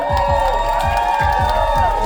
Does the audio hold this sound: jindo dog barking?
no